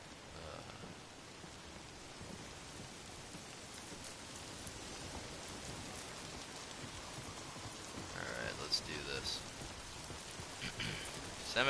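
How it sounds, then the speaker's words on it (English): Rain falls steadily in the Days Gone video game, a soft, faint hiss of drops on surfaces that rises a little toward the end, with no one speaking over it. "It's still raining!"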